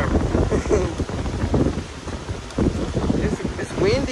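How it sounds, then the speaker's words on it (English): Gusty wind buffets the microphone in loud, uneven bursts while people talk over it outdoors in The Gambia. "It's windy, but it's not raining yet"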